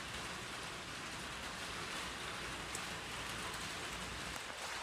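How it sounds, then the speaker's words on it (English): Steady rain falls straight down with no wind onto outdoor plants and a wall of mounts, a dense, even hiss of drops on leaves and surfaces that holds constant throughout with no voices. "It's straight down this rain."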